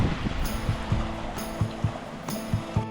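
Pacific Ocean waves wash around a sailboat at sea in continuous sloshing, broken by rhythmic thumps and splashes against the hull every second or so, with no talking.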